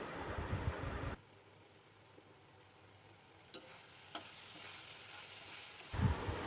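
Cumin, coriander and red chili powder hit a hot pan with a loud sizzle, then the frying settles into a faint steady crackle with a couple of sharp clicks before another burst of sizzling.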